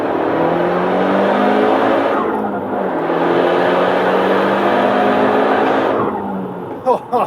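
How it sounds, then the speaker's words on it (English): An Audi S3 pulls hard in second gear from 3000 RPM, the engine note loud and steady with rising revs for several seconds, then a brief gearchange or lift near the end. "We'll have a quick second gear pull here"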